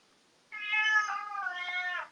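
A house cat gives one drawn-out, two-part meow, close and clear against a quiet room.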